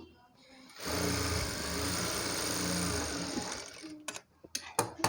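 Sewing machine stitching the side joints of a blouse, one sustained close motor whir for about three seconds, then cutting off into sharp clicks and taps of handling.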